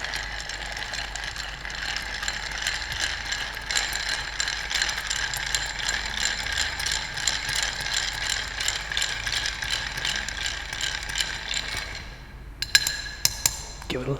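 A Greenpoint cocktail being stirred in a mixing glass gives a steady, rapid rattling click for about twelve seconds, then stops, followed by a few separate clinks.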